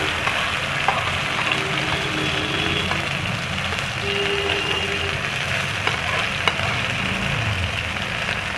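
Spice mix frying in a pan for a coconut paneer kofta curry, a steady close sizzle running the whole time with faint clinks of a utensil and a low background hum.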